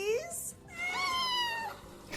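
A house cat meows several times at close range, drawn-out rising and falling cries in a quiet indoor room, with the first call short and the later one long and wavering.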